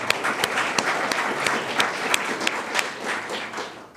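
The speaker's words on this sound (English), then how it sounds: "If we can get a round of applause for that." An audience at a Comcast grant announcement event gives a brief round of applause. The clapping is steady and moderately dense, with a few sharp individual claps standing out, and it fades slightly toward the end.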